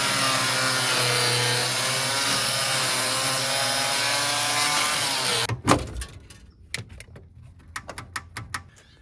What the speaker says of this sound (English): I'm about to cut this parking brake cable free